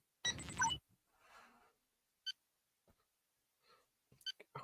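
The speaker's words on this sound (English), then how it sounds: "Let me make sure you guys can hear this timer." A debate timer gives a short, loud electronic beep, followed by a near-silent stretch with a few faint scattered sounds and soft clicks.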